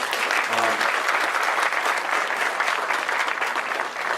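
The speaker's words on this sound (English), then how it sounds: "let's give a clap for that" Steady crowd applause at a Maryland offshore wind supply chain announcement by the governor, a dense wash of clapping throughout with a brief voice fragment near the start.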